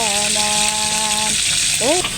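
Tilapia fish sizzles and spatters steadily as it fries in a pan, a continuous hiss with steady tones or a voice running over it.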